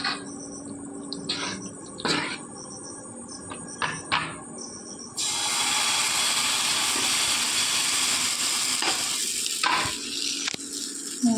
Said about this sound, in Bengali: দেখো, একটা ভেজে তুলে রেখে দিয়েছি আর একটা দিয়ে দিয়েছি, তো পুরোটা ভেজে নিই।